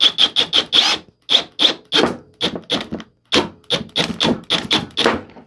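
Inch-and-a-quarter screws are driven into a hardwood wall shelf with a run of sharp, rapid knocking bursts in quick clusters, separated by brief pauses, close and fairly loud.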